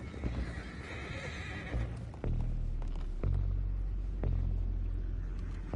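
Horses whinny loudly in Red Dead Redemption 2 game audio, joined by hoof clip-clops over a steady low rumble, with a few distinct neighs and snorts in sequence.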